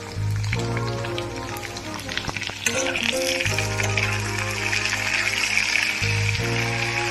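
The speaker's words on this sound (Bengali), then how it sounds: "টমেটো আর আলুটা সুন্দর করে ভেজে নিই।" Potato and tomato pieces sizzle steadily in a frying pan while a chola paneer dish is being cooked, the hiss running throughout under tuneful background music.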